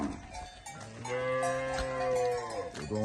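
Cattle on a rural farm in Buhera, Zimbabwe, give a long, loud, close moo with a clear harmonic drone, preceded and followed by shorter lowing sounds, with no talking.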